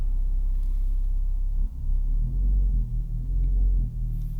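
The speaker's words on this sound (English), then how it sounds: "So as for the exhaust, you do have a standard mode that fires up a bit." A 2025 Hyundai Elantra N with DCT gearbox, exhaust in standard mode, gives a steady deep low rumble heard from inside the cabin, swelling slightly in places without sharp revs.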